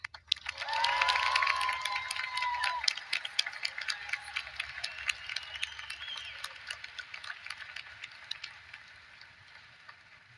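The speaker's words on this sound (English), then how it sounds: "Another round of applause for Jefferson." A high school graduation crowd applauds, loud at first, with a whoop of cheering early on, then the clapping slowly thins and fades over about ten seconds.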